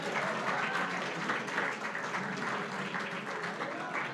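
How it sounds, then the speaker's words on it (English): Audience applause at an election watch party for union members and labor supporters, a steady dense clapping that stays loud for the full stretch without pauses. "Give yourself a round of applause."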